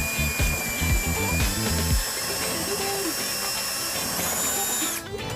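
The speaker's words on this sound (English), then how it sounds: "we're not damaging that with the drill when we're creating our hole for the hardware" A power drill whirs steadily up close, drilling a 5/16 pilot hole for trailer hitch hardware on a 2001 Dodge Neon, a continuous grinding whine with shifting pitch as the bit works through the material.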